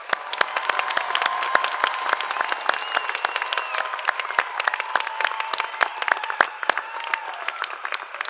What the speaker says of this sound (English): How about a round of applause for our graduates?